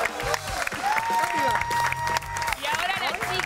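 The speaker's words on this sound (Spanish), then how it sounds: "¡Fuerte el aplauso para Fátima Flores!" Studio audience applause with scattered cheers and whistles for a stage performer on a television talk show, steady and close throughout.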